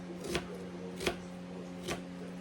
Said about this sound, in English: chop that up